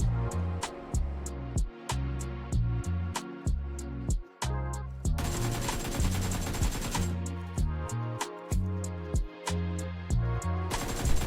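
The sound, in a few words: M249 machine gun firing in PUBG Mobile video game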